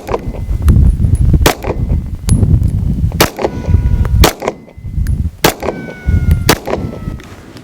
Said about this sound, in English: we're going to be doing the modern SIG 320, and again at a distance about 10 yards, shooting 6 shots into a 10-inch target